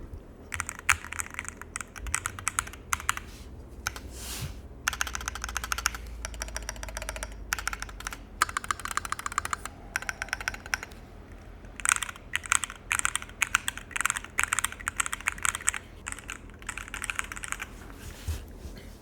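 Typing on a MelGeek68 Ultra mechanical keyboard, with steady bursts of close, crisp keystrokes running for the whole stretch and brief pauses between runs.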